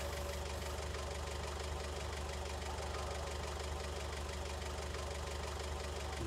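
A tractor engine idles in Farming Simulator 19, a steady low rumble with a regular knocking pulse that runs evenly and close throughout.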